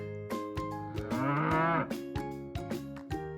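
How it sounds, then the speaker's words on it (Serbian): A cow on a farm gives one long, drawn-out moo in the middle, set against a steady children's music backing with light rhythmic beats. "Krava muče."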